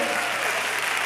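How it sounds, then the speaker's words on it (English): Brief burst of a church congregation clapping hands together, a dense, even patter of many hands heard close and continuous for about a second. "Somebody clap your hands and bless him."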